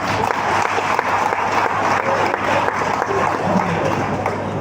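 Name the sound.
audience applause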